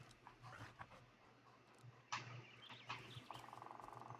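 A dog pants quietly and steadily in the Blair Witch video game, with soft rhythmic breaths, a faint whimper and low ambient game sounds around it.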